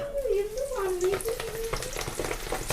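Chicken fries in hot oil with a steady loud sizzle and crackle throughout, while a voice speaks over it in a melodic, sing-song tone.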